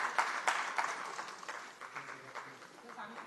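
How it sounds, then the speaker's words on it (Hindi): Applause from a conference audience at a national meeting of legislative Estimates Committees, steady and moderately distant clapping with a voice speaking over it. "हमारी तालियों की गर्जना बहुत स्नेह, बहुत वात्सल्य, बहुत प्रेम बटोरेगी।"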